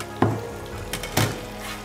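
Mushrooms and zucchini pan-frying, a steady sizzle broken by two sharp clanks of utensil against pan.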